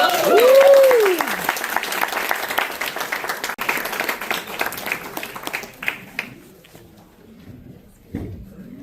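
An audience at a storytelling night in a VFW hall gives a round of applause for a storyteller, loud at first and thinning into scattered claps before fading out; a voice briefly rises over the start.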